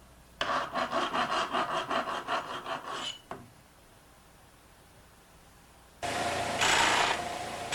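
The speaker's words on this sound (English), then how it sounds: "The cutting edge area is filed to remove any unevenness." A file rasps back and forth along the cutting edge of an ultra-thin blade in a quick, even run of about a dozen close strokes, then pauses before a steady polishing whir begins.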